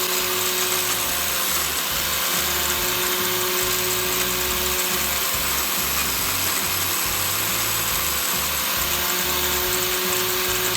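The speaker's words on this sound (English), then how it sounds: "switching it over to a fresh grinding disc just to get the results that I was after" An angle grinder fitted with a fresh grinding disc works a bolt head on a homemade hydraulic top cover plug for a Fordson Dexta tractor, a loud, continuous high-pitched whine with a rhythmic pulsing drone underneath throughout.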